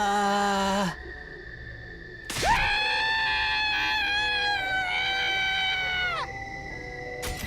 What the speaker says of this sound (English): That was an interesting scream.